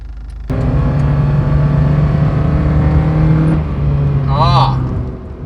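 A Honda Fit engine rises sharply into a sustained, loud rev as the car accelerates, then eases briefly before pulling again, heard from inside the cabin.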